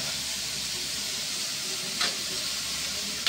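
Pancit noodles with ampalaya and meat stirred in a frying pan, a steady loud sizzle throughout with a brief scrape of the utensil partway through.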